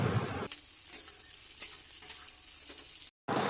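Onions fry in oil while being stirred, a close steady sizzle broken by repeated scrapes of a spoon against the pan, ending in a brief cut and a louder burst of frying.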